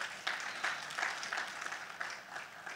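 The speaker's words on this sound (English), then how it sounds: "Let's clap for them again." Audience applause at a 2018 tax and business compliance seminar, a steady wash of many hands clapping for the presenters, moderately loud and continuous with no talk over it.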